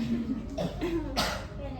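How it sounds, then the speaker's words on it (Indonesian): A person coughs a few times, short harsh bursts close to the microphone. "Ya udah coba batuk gitu"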